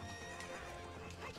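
Horse Epona from the video game The Legend of Zelda: Ocarina of Time neighs while its hooves clip-clop at a gallop, steady game audio with no talk.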